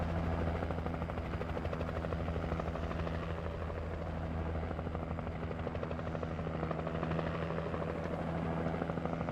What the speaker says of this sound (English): hover around there in the helicopter